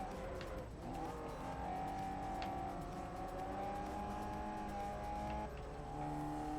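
A rear-wheel-drive racing car's engine in Forza Motorsport 4 revs steadily, its harmonic whine rising and falling through gear changes, continuous and fairly quiet.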